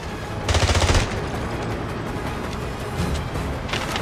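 An AK assault rifle fires in James Bond 007: Blood Stone, a short automatic burst, then a brief second burst and a shorter third, loud over a steady game background.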